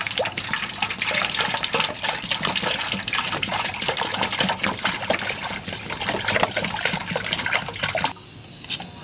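Cold water pours steadily into a homemade rose water distiller, a continuous splashing trickle at close range that runs evenly for about eight seconds, then stops abruptly, leaving a quiet room.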